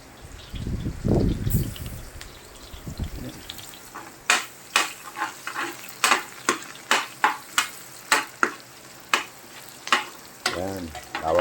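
Garlic frying in a pan for pancit canton, a steady sizzle with a regular run of sharp metal scrapes and taps as it is stirred, loud and close, with no talking.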